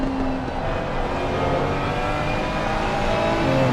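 A Ferrari race car engine in a PC racing game roars continuously from an onboard view, its steady high-revving drone holding loud and close for the whole stretch with no speech.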